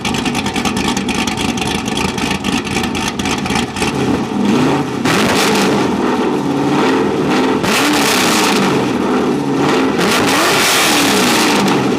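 A car engine running with a lopey, choppy cam idle, loud and close, its uneven throb continuing throughout with a few revving swells and no voices.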